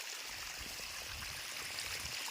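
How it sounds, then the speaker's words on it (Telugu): A faint, steady trickle of water from drip irrigation drippers in a chilli field, continuous and soft with light gurgling, heard alone. "వాటర్ కూడా సమానంగా పోస్తున్నాయి"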